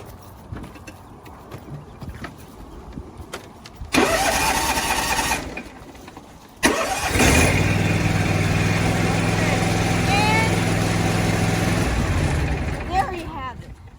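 A car engine is jump-started with a VTOMAN X7 portable jump starter: a first cranking attempt, a pause, then a second crank that catches and settles into a steady close idle, with a person talking.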